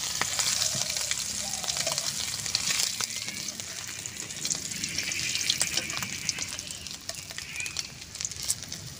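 Loud, steady sizzling and crackling of food frying in hot oil, with occasional stirring scrapes throughout.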